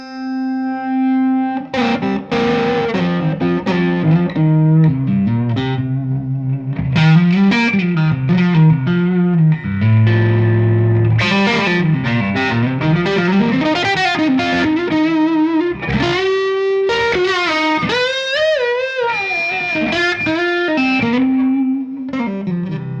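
An electric guitar plays through a Golden Boy pedal in its compressed, high-gain mode, giving a thick, sustained, distorted tone. Notes and bends run continuously and loudly with no talking.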